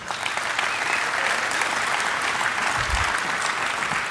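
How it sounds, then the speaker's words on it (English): Conference audience at DEF CON applauds Nicole, a broad sustained wash of clapping from a large crowd, even and continuous throughout. "let's give a round of applause to Nicole."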